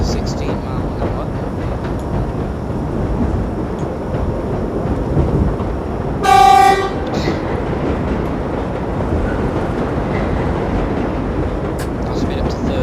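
A New York Line 7 subway train in World of Subways rumbles steadily at low speed, a continuous rolling drone with a short high signal chime partway through, while a player talks over it.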